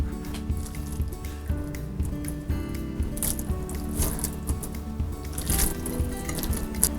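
Shrimp and dumpling filling is mixed by hand, giving close, continuous wet squishing and sticky squelching with small clicks over a low background hum.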